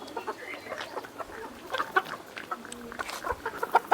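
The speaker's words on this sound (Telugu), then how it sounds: "ఇక మన కోళ్ళు చూసుకున్నట్టయితే ఇట్లా పెరిగినాయి" Farm chickens being raised for weight cluck and call in short, irregular bursts close by, with scattered clucks overlapping through the whole stretch.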